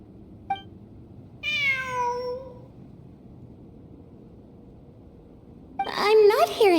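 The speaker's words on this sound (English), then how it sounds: "It really is a cat." Cat meowing in a video game: a short chirp, then a clear drawn-out meow with falling pitch, and later another louder wavering meow over a quiet ambient background.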